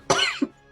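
One person coughs once, then gives a short follow-up cough, close and fairly loud, with no talk.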